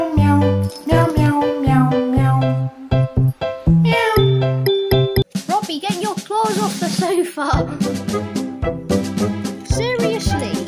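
Loud, close meows repeat in a quick rhythm, a human voice imitating a cat mixed with cat-like cries and a faint jingle.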